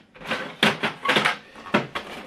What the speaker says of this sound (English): Now if you bring out the paper tray,